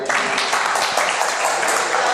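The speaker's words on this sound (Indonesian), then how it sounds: "tepuk tangan dulu" A lecture audience at a Ramadan Islamic study session breaks into brief, dense applause, a steady loud wash of clapping with no voices over it.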